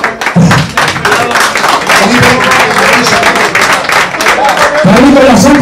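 Applause from an audience at a football awards ceremony, loud and continuous throughout, with an announcer's voice speaking over the clapping in places.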